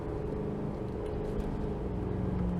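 A 2024 GMC Sierra 2500HD Denali Ultimate heavy-duty pickup engine revving, a steady, loud, deep rumble that holds throughout without a clear rise or fall.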